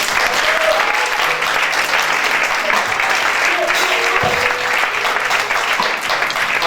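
A church congregation at a Sunday service claps in sustained, loud applause that fills the whole stretch, with voices mixed into the clapping.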